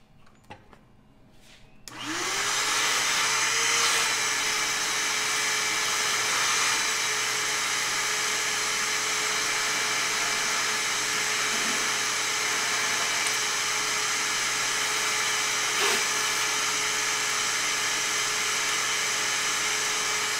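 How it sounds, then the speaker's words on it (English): A vacuum cleaner sucks out the inside of an espresso coffee grinder, starting with a click and then holding a loud, steady whine and rush with small pitch wobbles, close up and alone. "I just need to vacuum this out."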